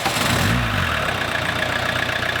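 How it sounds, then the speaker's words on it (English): An old diesel car engine idles close by with a steady, clattering rumble, a brief heavier surge at the start settling into an even idle, with no talk over it. "Now that's the sound of a solid diesel engine"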